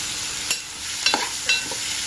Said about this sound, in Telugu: తగలంగానే చక్కగా దోరగా ఎర్రగా వేగుతాయండి, అది గమనించాలి.